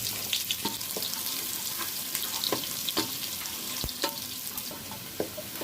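Chopped onion frying lightly in a pan with bay leaves and whole garam masala, a steady close sizzle running throughout with scattered crackles and spoon scrapes, no voices.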